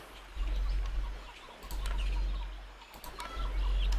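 A video-game chicken clucks in short intermittent bursts over a constant low background hum, sounding close and moderately loud, with no voices.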